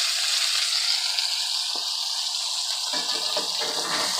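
Salmon fillet searing skin-side in a hot pan, with an even, continuous hissing sizzle heard alone and fairly close.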